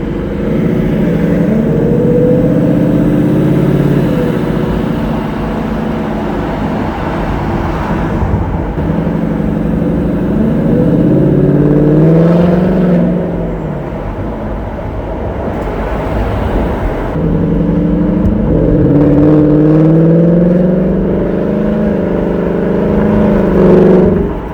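2019 Mustang GT with Borla S-Type exhaust in normal mode, heard from inside with the windows down, its loud V8 rumble rising and falling through repeated gear pulls with a steady low drone.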